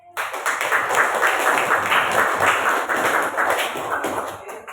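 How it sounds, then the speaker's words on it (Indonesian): A junior high school science class applauds after the first group finishes its presentation, a dense, even burst of many hands clapping that starts abruptly and carries on steadily before thinning out near the end. "kita beri tepuk tangan"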